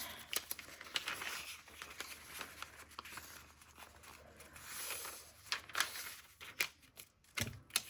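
Vintage blue junk journal paper pages are folded into signatures, giving soft, close crinkles, creases and light taps in irregular bursts against a quiet room.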